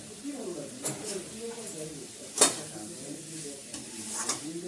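Fried fenugreek greens and potatoes being stirred in a pan, with soft scraping strokes and one sharp clatter amid a low sizzle, while someone talks over it.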